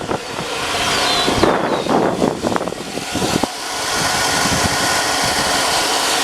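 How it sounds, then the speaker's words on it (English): Chevy Avalanche engine idling with a failing alternator bearing, a steady close mechanical hum and whir with some wind buffeting the microphone and a few irregular louder rattles midway, no voices. "Bearing's going out on the alternator."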